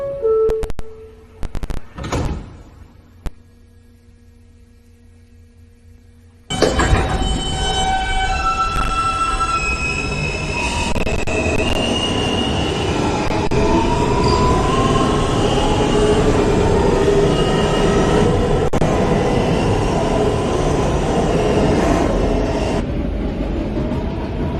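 An N train on the New York subway runs between stations on the Broadway Local toward Astoria-Ditmars Boulevard, a loud, steady rumble and rattle of rail cars with screeching wheel squeals, after a quieter stretch of door noises and announcements at the start.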